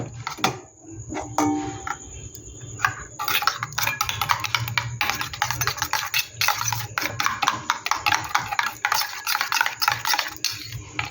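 Eggs beaten with tomato, chilli, coriander and a pinch of salt for an omelette, with rapid close clicking whisk strokes against a bowl, pausing briefly before a long steady run.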